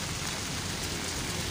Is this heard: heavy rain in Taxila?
yes